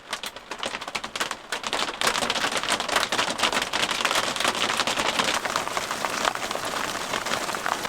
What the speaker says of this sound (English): Before long, the rain turned to hail.